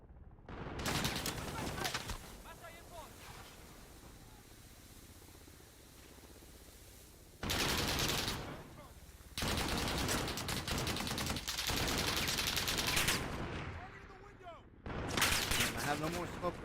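Bursts of automatic gunfire in Call of Duty: Modern Warfare, several loud, sustained volleys separated by quieter pauses, with game voices heard in between.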